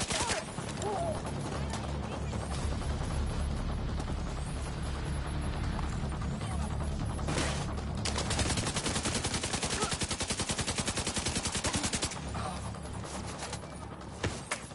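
Rapid bursts of automatic gunfire from The Division 2 shooter game, set in New York, crackle almost continuously at high level, thickest in the middle stretch, over a dense game soundscape with no clear talk.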